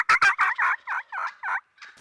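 Wild turkey toms gobble near hens in a fast burst of about eight rattling notes, close and loud, fading off at the end.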